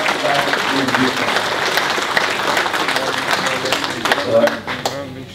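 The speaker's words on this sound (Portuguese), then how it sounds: "Agradecia, uma salva de palmas" Audience applause at a memorial gathering, a moderately loud burst of clapping with some voices mixed in that gradually thins out toward the end.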